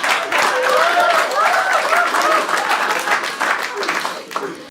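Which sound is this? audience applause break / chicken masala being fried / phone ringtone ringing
audience applause break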